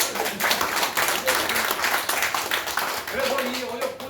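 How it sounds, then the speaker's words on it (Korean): An audience at a presentation claps in a sustained patter of hand claps throughout, running under a speaker's talk. "이 대목에서 박수를 쳐야 됩니다."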